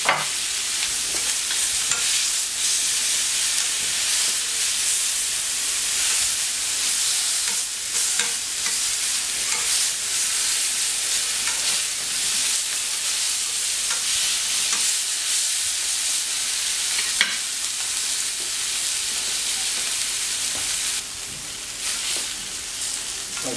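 Chicken sizzles steadily on a hot plancha griddle, cooking gently, with a constant broadband frying hiss and occasional crackles that stay at the same level throughout, with no voices.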